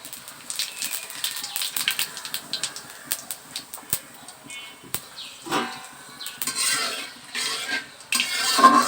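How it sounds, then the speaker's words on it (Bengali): Dried red chillies, bay leaves and cumin crackle in hot oil, a busy sizzle peppered with sharp utensil clicks and scrapes against the pan, growing louder and denser toward the end. "শুকনো লঙ্কা আর তেজপাতা ফোড়ন দেব, সাথে কিছুটা জিরে।"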